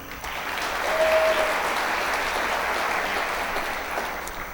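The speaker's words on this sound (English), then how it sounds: "We'll still give her a round of applause." Audience applause at a State of the City 2023 event, a steady sustained wash of many hands clapping from a sizeable crowd, swelling slightly early on and then holding fairly even before tapering a little at the end.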